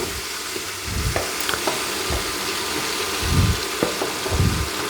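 Ash gourd fries in a pan on an electric stove with a continuous, fairly loud sizzle, while periodic low scraping strokes of stirring rise and fall every second or so. No talking is heard.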